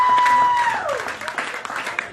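Polka festival audience applauding, a dense wash of clapping from a crowd, loud and continuous, briefly overlapped by a tone sliding downward at the start.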